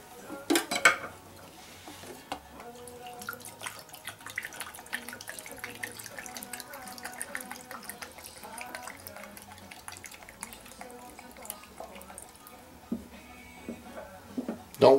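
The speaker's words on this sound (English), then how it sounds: "Okay, let's go ahead and fill this thing with fuel. And the fuel is very simple. You just pour it right down in here." Alcohol fuel is poured into a backpacking stove made from a Bud Light aluminum bottle, giving a steady thin trickle with scattered metallic clinks and taps, close and moderately quiet, with no talk.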